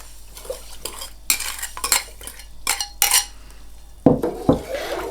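A spoon clinks and scrapes against a pot in quick, uneven strokes while stirring sugar into water, close by, with a few sharper knocks near the end.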